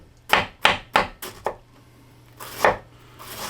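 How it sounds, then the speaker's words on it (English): A knife chops cabbage on a wooden board in sharp, close strokes, four quick evenly spaced chops then a brief pause and two more, with no talking. "I'm gonna keep chopping this cabbage up"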